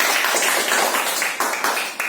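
A classroom group claps hands together in a steady burst of overlapping claps lasting about two seconds, fairly loud and close, with no talking over it.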